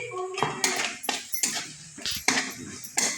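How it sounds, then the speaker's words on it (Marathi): Whole spices are stirred in a pot for khichdi, giving repeated metallic clanks and scrapes of a spoon against the pot in an uneven rhythm, close and fairly loud. "पुन्हा मिक्स करून घेऊ"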